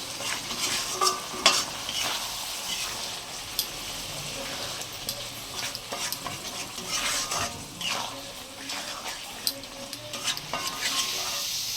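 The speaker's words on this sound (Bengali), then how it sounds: "এগুলোকে ভালো করে মিশিয়ে নিয়ে কষাবো।" Potatoes with spices sautéing in a pan for a tilapia curry, with steady sizzling and repeated scraping and clinking of a spoon as the mixture is stirred, close and fairly quiet, without speech.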